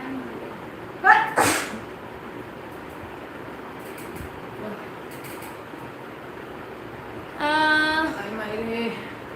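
A person sneezes with a cold and runny nose, one sharp burst near the start followed later by a longer nasal, voiced exhalation, close up over a steady low background hum.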